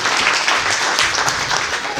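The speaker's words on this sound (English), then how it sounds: "So give a round of applause, guys" A round of applause at an alumni association welcome address, a dense, even wash of many hands clapping throughout with no voices.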